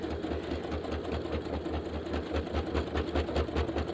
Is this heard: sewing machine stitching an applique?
yes